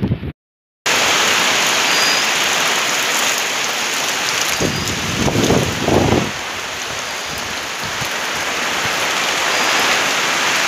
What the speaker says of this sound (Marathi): मित्रांनो त्या साईडनी गेला, पण आता पाऊस येतो